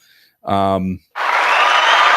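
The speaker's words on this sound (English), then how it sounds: "Big round of applause for Lynn Serrano." Audience bursts into sustained applause at a live talk, a dense wash of many clapping hands that follows a short spoken line and continues steadily at close range.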